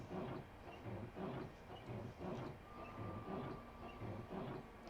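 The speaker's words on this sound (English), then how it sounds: "that train is not at the platform. It actually has just left." A high-speed train pulls away from a station, heard from the cab of a Class 395 on the London–Faversham line: a faint rhythmic clatter of wheels over rail joints repeating about once a second, with a thin whine under it.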